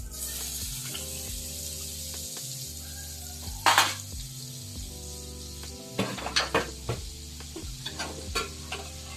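Butter sizzling in a pan while sweet corn chaat is being made, a steady frying hiss under a low background hum, with a few sharp clinks and scrapes of a spoon against the pan.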